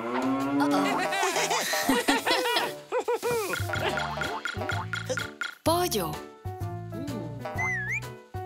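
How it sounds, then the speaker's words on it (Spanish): A cartoonish toy cow moos repeatedly in a children's farm-themed play scene, the lowing calls layered with chiming music and bright sound effects, loud and close. "¡Vaca!"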